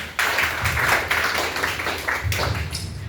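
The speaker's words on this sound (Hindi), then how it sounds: "तो जोरदार ताली होनी चाहिए एक बार" An audience breaks into applause, a dense burst of clapping that starts abruptly and carries on unevenly at a moderate distance, rising and falling in waves.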